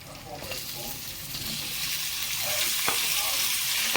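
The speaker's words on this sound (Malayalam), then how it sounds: "നമുക്കിതിലേക്ക് വേവിച്ച് വെച്ചേക്കുന്ന പപ്പായ എടുത്തിടാം" Boiled papaya tipped into a pan of frying onions and stir-fried: a close hiss of frying with scattered clicks and scrapes from stirring, growing a little louder over time.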